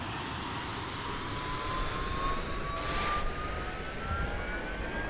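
A fighter jet's engine in the video game Arma 2 roars steadily up close, a broad continuous whoosh with a thin rising whine, holding at a loud, even level throughout.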